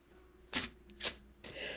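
Three quick riffle shuffles of a deck of tarot cards, each a crisp papery burst, close and fairly quiet, with short pauses between.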